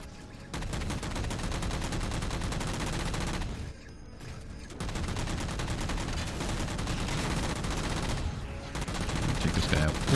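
Rapid, dense gunfire from the video game Halo 4, with sustained bursts of automatic fire that pause briefly twice, loud and continuous throughout.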